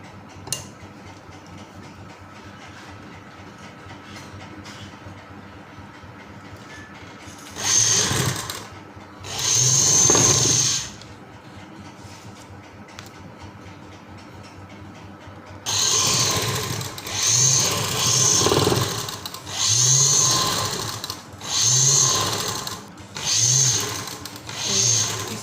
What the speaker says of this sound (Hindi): ये पैंट का हिस्सा अब एक है और दूसरा हिस्सा इसके ऊपर रखकर इस तरह से हम पहले इसके आसन सिलेंगे।